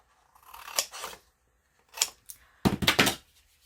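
Paper for a card tab, trimmed with scissors: several crisp snipping cuts in short bursts, close and clear, with a quick cluster of snips at the end and no talking.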